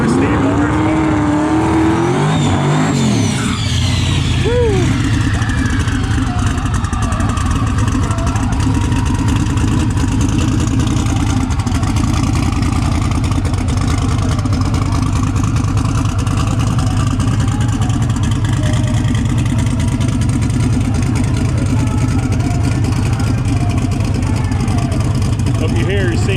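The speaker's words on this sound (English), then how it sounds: "It has a very distinct sound now with that Steve Morris big block in it. The thing is rumbling." Big-block turbocharged Mullet drag car with a Steve Morris engine rumbling loudly and steadily, a deep sustained roar throughout with a brief rising surge near the start, with voices heard over it.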